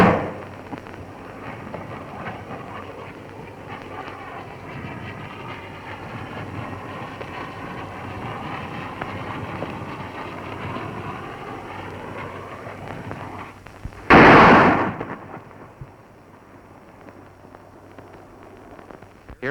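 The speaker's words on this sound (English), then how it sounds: "Here is the burst of the shell." An artillery shell bursting near a soldier under fire, a long rushing rumble building for several seconds before one loud, close explosion that fades away.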